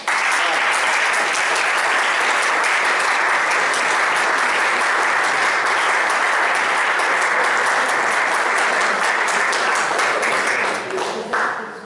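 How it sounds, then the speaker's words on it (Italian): Sustained audience applause at a political meeting in Fiesole, loud and dense throughout, steady clapping from a crowd that tapers slightly near the end. "quindi un applauso ulteriore"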